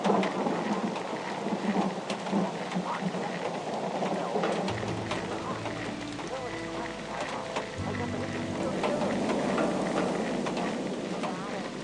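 Steady rain with low rumbling thunder in the video game Whispers of a Machine, a continuous hiss of falling water with deep rolling rumbles and some clanking, under a voice talking.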